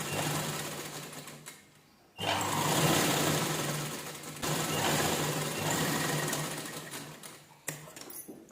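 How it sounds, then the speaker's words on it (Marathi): A domestic sewing machine stitches the neckline of an unlined blouse, running in steady bursts of close, busy whirring with a brief pause between runs and no talk. "फक्त काण्याने जिथं कोपरे वगैरे आहेत तिथे व्यवस्थित ठेवून घ्यायचा स्टिच करून घेते"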